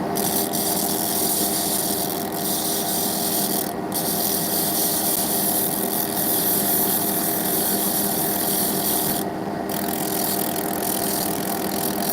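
Very coarse sandpaper is rubbed by hand over a surface in a continuous, loud rasping drone, with a few brief breaks in the stroke.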